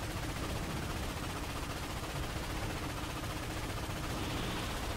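Dense, continuous gunfire and blaster bursts from a Ratchet & Clank space battle against enemy ships, a steady loud barrage filling the whole stretch with no pauses.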